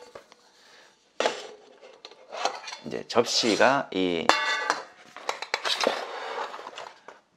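A Korean camping cookware set, a 10-piece plate set added to a combination pot kit, clinks and clatters as dishes are handled, with bright metallic knocks and scraping close by between brief spoken words.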